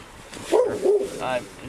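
A dog gives a couple of short yips and whiny barks at close range during a police traffic stop, with low voices and background noise around it.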